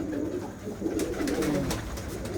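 A pigeon coos softly nearby, with low throaty burbling calls repeating over a faint background hum.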